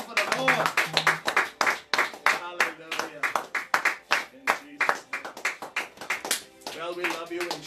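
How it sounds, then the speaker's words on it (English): A church congregation claps hands together in a steady rhythm during a service, many sharp, loud claps in a quick repeating beat alongside singing and call-out voices. "Come on, clap your hands to the Lord."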